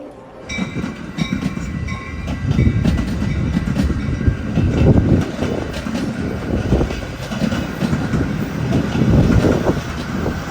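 A Metra commuter train rolls past trackside in the Chicago suburbs near Elmhurst, loud and close, with rumbling wheels and rhythmic clickety-clack over rail joints for the whole stretch, no voices.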